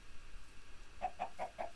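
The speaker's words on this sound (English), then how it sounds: "Chicken." A Minecraft chicken gives four quick, evenly spaced clucks in the second half, faint against a quiet background with no talking.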